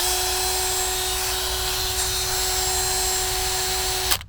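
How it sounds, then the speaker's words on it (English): A power drill whirs steadily at high speed with a constant whine, running unloaded for several seconds before abruptly cutting off with a click. "I don't know if I should just run the drill on no load for a minute."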